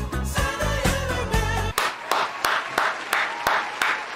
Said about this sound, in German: Bitte jetzt nicht mehr klatschen.